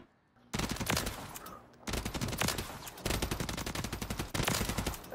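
Rapid automatic gunfire from a weapon in Call of Duty MW3 ranked multiplayer, loud bursts of closely spaced shots separated by short pauses.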